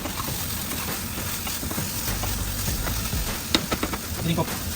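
Amaranth leaf dal sizzles as it fries in a pan, a constant crackling hiss with a few sharper clicks and stirring sounds near the end.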